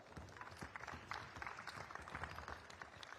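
Players and onlookers applaud during a U12 basketball practice session at a coaching conference, giving a brief, fairly faint burst of scattered hand claps that continues steadily for a few seconds in an indoor gym.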